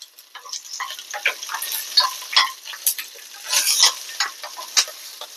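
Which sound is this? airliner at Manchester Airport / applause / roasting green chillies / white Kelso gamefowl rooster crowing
roasting green chillies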